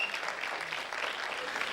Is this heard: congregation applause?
yes